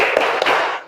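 Classroom of pupils doing a rhythmic focus-clap ice-breaker, a loud, close burst of many hands clapping together with two sharper accented claps, fading quickly at the end.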